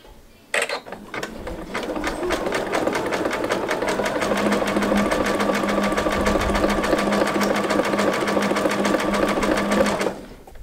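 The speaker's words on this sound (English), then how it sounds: "I'm going to sew right along that line." A sewing machine runs steadily for about ten seconds, stitching along a line of a jelly roll fabric rope bowl, its rapid needle clatter loud, close and even, with no talk.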